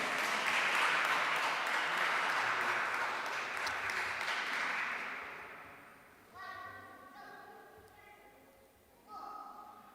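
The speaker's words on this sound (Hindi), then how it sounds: "आपकी भरपूर तालियों में दावत देता हूँ" A church congregation applauds during a Sunday Eucharistic celebration, a dense burst of clapping that fades gradually, followed by a few bright chime-like tones and soft knocks.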